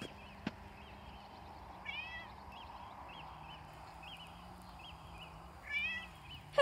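A kitten gives two faint, high meows a few seconds apart in a quiet outdoor setting with soft chirping in the background.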